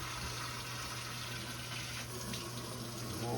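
Water poured into a cooking pan for gravy, a steady gushing splash throughout, fairly faint and close, with no voices over it.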